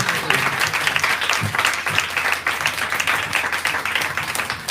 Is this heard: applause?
yes